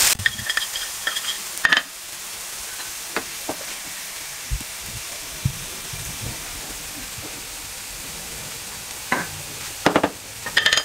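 Beef burger patties frying in a pan over low, gentle heat: a continuous soft sizzle with occasional louder crackles and scrapes near the start and end.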